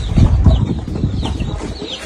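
Chickens cluck and murmur close by in a short, busy burst of low, choppy fowl calls, with no talking over them.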